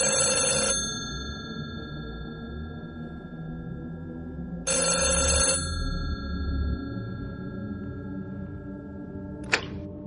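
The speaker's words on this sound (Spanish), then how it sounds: "De pronto mi teléfono sonó en el silencio." A telephone bell rings in two separate bursts about four seconds apart, each trilling for under a second, followed by a short sharp click.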